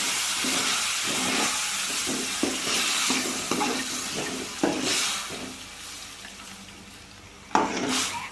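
Tamarind water and lemon juice poured into a hot pan for lemon rice, sizzling and bubbling at close range with liquid splashing and occasional sharp clinks of a spoon against the pan, no voices.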